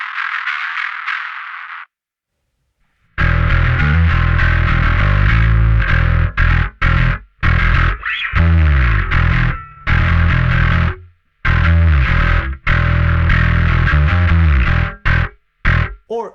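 Heavy distortion from the Anagram Entropia plugin with the drive pushed up, a loud buzzing, metallic processed sound that starts after a short pause and chops into stuttering bursts and gaps.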